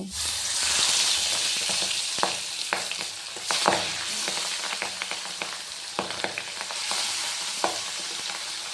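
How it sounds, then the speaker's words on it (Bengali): Pabda fish fry in hot mustard oil in a wok, giving a loud, steady sizzle broken by sharp clinks and scrapes of stirring, with no talk. "একে একে মাছগুলোকে ভেজে নেব।"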